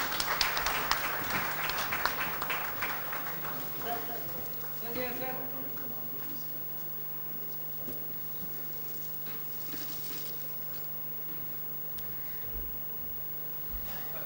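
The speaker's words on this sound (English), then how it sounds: "let's have a huge round of applause once again" Convention audience applause at a 2013 valedictory session: a burst of clapping in a hall that thins out and fades over several seconds, leaving a quiet room with a steady electrical hum and occasional small noises.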